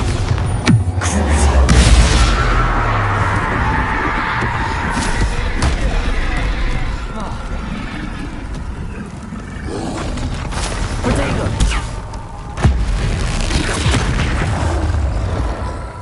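Bombarda explosion spells go off in the video game Hogwarts Legacy, giving repeated heavy booms and blasts over a dense, busy game soundscape for the whole stretch.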